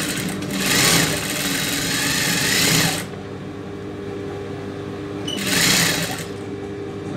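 An electric sewing machine stitches a folded hem on a child's silk skirt in two loud bursts of fast, even whirring, separated by a quieter pause of background hum.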